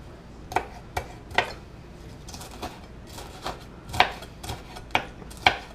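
A knife chops through cooked bacon slices on a cutting board. About nine sharp, close knocks come in an uneven rhythm, with no talking.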